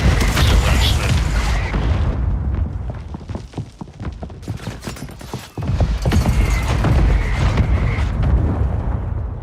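Mortar strike in the video game Warzone: a run of heavy, close booming blasts with rattling debris and rumble, followed by a brief lull and another loud surge of explosive noise.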